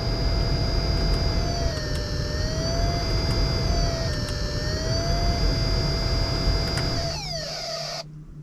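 Car heater fan running inside a vehicle, a loud steady whooshing blow with a faint tonal whine that slowly wavers, then drops off as the fan winds down near the end.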